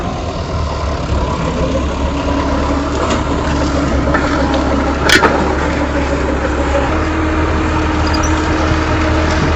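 Tractor pulling a disc plough on a field's second ploughing pass, a loud, steady low diesel drone running throughout with a brief sharp clank midway.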